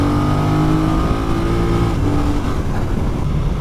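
A BMW F900R twin-cylinder motorcycle engine drones steadily at moderate revs, loud and close, its low throbbing note holding fairly constant throughout with no talking.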